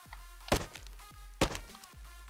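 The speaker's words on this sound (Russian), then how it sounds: "Набираем чуть-чуть дерева." Wood being chopped in the Rust survival game, with two sharp, close axe strikes a second apart and softer thuds between them, alone with no talk.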